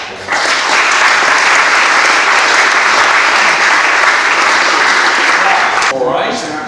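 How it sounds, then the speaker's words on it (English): A large audience applauds the speakers' platform at the close of a formal debate held in a London Supreme Court hall, dense sustained clapping at full level that cuts off sharply near the end as a voice begins. "So, a final round of applause for our platform."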